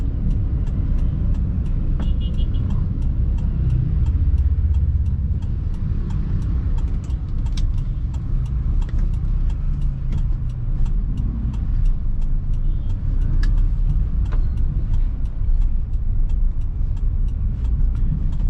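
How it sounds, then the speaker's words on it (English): A car driving along a narrow road, steady interior engine and road rumble with faint ticking clicks, continuous and fairly loud, no talking. "I'll be turning right and I'll be driving in narrow road now."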